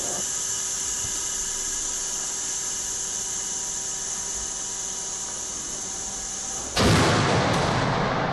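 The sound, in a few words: cannon shots in Anish Kapoor's performance piece Shooting in the Corner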